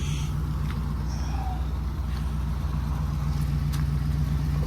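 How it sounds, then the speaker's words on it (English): A 1990 Oldsmobile Custom Cruiser station wagon idling just after start-up after long storage, a low steady burbling engine rumble, close and continuous with slight unevenness. "A little bit of a burble there."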